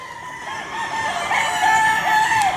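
A young gamecock stag at a game farm crows in one long, loud, drawn-out call close by, rising and wavering over faint background noise.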